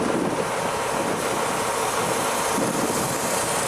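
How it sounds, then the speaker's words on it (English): Steady, roaring wind buffets the microphone, a dense continuous rush with no voices. "It's windy"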